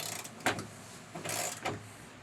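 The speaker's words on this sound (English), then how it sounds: "Now I'm going to push in and start tightening away." A console table bracket is tightened inside a Sprinter van, giving a few short metallic ratcheting scrapes in quick bursts, close and fairly quiet, with no voices.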